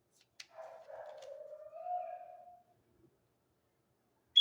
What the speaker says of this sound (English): Why the dog barking like that?